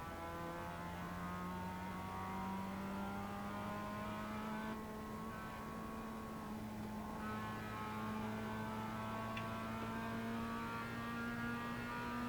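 Race car engine running steadily on track with sustained harmonic drone, pitch shifting as the driver brakes and changes gears, a continuous mechanical hum with no talk over it.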